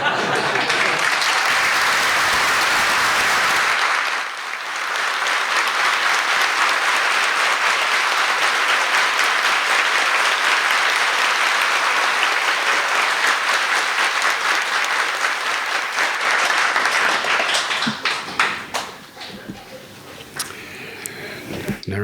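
Sustained loud applause from a large audience at a devotional gathering, steady dense clapping that briefly dips near the start and then thins out toward the end.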